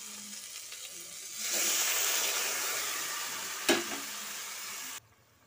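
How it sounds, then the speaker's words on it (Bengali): Vegetables frying in a pan with a steady broad sizzle that swells as they are stirred, with one sharp scrape of a spatula near the end before it cuts off; close, with no talk. "আরো কিছুক্ষণ নাড়াচাড়া করে নিয়ে জল দিয়ে দেব।"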